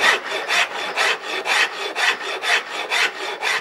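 A big rasp files wood in close, rhythmic strokes, roughly three per second, each a loud rough scrape, with no talking.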